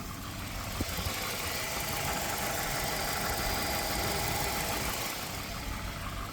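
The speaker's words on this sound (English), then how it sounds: "Just start the engine." A Volvo 240 engine idling after being resealed, a steady low mechanical rumble with faint knocking texture and vibration, close and continuous for about six seconds with a single brief click near the start.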